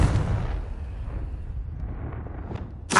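A Confringo explosive spell in Hogwarts Legacy goes off as a loud, sharp burst, then a low rumbling boom decays and fades, with a second sharp crack right at the end.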